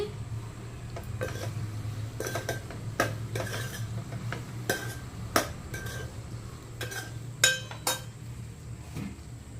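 A metal spoon scrapes and clinks irregularly against a cooking pan as turmeric and chili powder are stirred for an okra and raw prawn dish, with sharp taps standing out over a low background hum.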